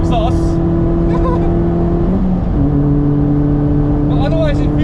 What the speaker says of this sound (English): driving a race car like this Vios Challenge car